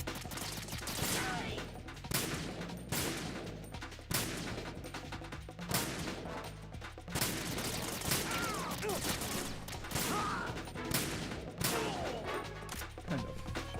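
Gunfire in Metal Gear Solid 2 as a player lines up and shoots guards in a room, with repeated bursts and shots running throughout amid busy game noise and music.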